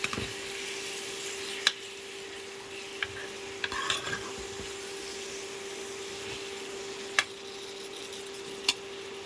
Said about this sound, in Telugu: ఇప్పుడు రొయ్యలు వేసేస్తున్నాను. ఇదిగోండి ఇలాగా మిక్స్ చేసేస్తున్నాను.